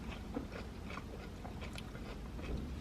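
Crunchy bites into a thick cornflake marshmallow cookie, several close crisp crunches spread across a few seconds with steady chewing in between.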